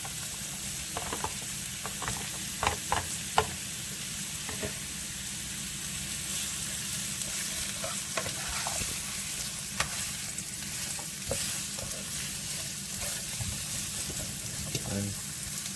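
Onion and sweet pepper stir-fry in a pan for a chicken and shrimp stir fry, giving a continuous soft sizzle punctuated by scattered utensil clicks and scrapes, with a voice talking at times.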